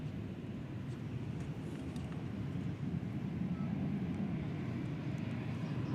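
Boeing 737-800 airliner taking off at DFW Airport, a steady broadband jet engine roar, fairly distant and sustained, swelling slightly as it climbs.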